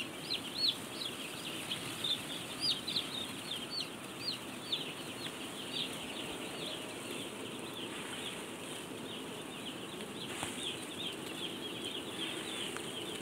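Day-old broiler chicks fill a closed-house coop with continuous high-pitched peeping and cheeping, a dense steady chorus of many birds close by, with occasional rustling and no voices.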